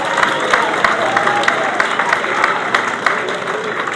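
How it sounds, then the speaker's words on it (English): A crowd at the British Sidecar Speedway Championship final at Belle Vue applauds and cheers a winning sidecar pairing, giving a fairly loud, steady wash of clapping and crowd noise with sharper individual claps standing out. "certainly give him a cheer"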